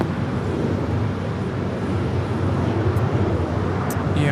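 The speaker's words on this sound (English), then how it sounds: "This is KLM 603 coming in from Amsterdam on the 777-200 ER" A KLM Boeing 777-200ER from Amsterdam arrives at LAX, a distant, steady jet rumble and roar heard outdoors amid faint wind, with no talk.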